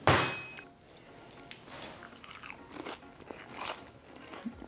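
Biting into and chewing a crunchy fried egg, a sharp close crunch at the start followed by quieter, irregular chewing and crackling bites, faint and intimate with no talk.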